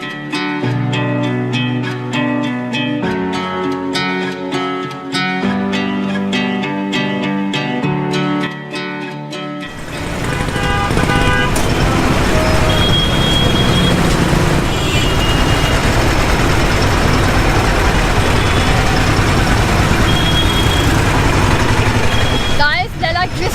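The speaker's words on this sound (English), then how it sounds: "we're continuing now our tuk-tuk drive." A tuk-tuk ride through narrow city streets in India: music plays at first, then a loud, continuous engine rumble and street noise take over for the remaining thirteen or so seconds.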